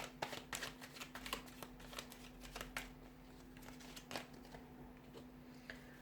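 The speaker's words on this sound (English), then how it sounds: "So I'm going to give the cards a shuffle" Tarot cards are shuffled close by in quick riffling bursts of soft papery flicks and snaps, fairly quiet, with no talking over them.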